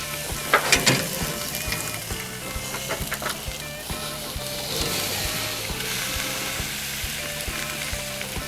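A thirty-five-day dry aged ribeye steak sears on a GrillGrate over a Weber kettle grill, giving a steady close sizzle and crackle with a few sharp pops near the start and no voices.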